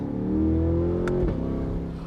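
A Chevrolet C8 Corvette's engine revs up in a short, loud pull, the tone climbing steadily before easing off, with the car seemingly passing close by.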